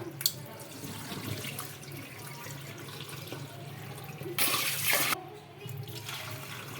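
Quiet background noise gives way to a short burst of water poured off soaked sago for about a second, then fades back to near silence.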